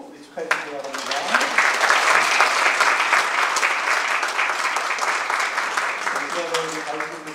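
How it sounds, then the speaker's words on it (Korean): A church congregation applauds at an anniversary and ordination service, the clapping swelling after a brief spoken lead-in and holding steady while a voice speaks over it near the end. "박수로 우리 축하해 주시기 바랍니다"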